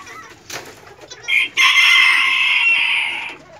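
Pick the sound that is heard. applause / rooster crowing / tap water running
rooster crowing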